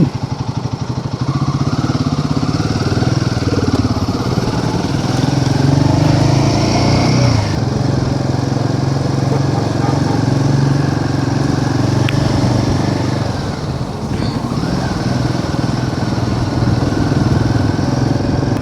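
A motorcycle being ridden along a mountain road in the Kalpa valley, its engine droning steadily and loud throughout with slight shifts in pitch as it climbs and corners, no talk over it.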